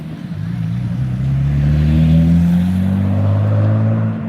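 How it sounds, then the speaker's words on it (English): A fast sleeper car on a street in Japan accelerates past at close range, its engine note climbing loud and steady over about four seconds before easing slightly as it moves on. "I love these sleeper cars in Japan, because you know this guy's fast."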